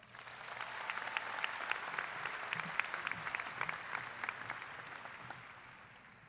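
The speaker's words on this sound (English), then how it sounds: "Please give them another round of applause." An audience at a Stanton College Preparatory graduation ceremony applauds guests with steady, fairly distant clapping that swells and fades over several seconds.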